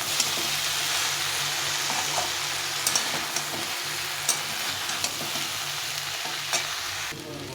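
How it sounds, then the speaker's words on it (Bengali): Mixed vegetables, including jackfruit, with chili powder sautéing in a pan, a steady close sizzle with occasional sharp scraping stirs of a spatula, continuing without speech. "এখন এটা নেড়ে চেড়ে একটু কষিয়ে নিতে হবে।"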